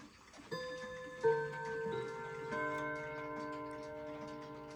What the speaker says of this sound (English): now I will get straight to what the clock sounds like